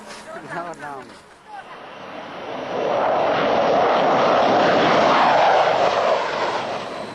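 Steady broadband roar of an Air Vietnam airliner in flight, swelling after a brief quieter moment into a loud, continuous cabin drone that holds throughout, with faint voices near the start.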